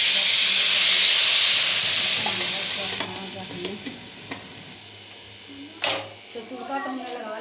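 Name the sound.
tadka (tempering) sizzling in hot oil for kari pakora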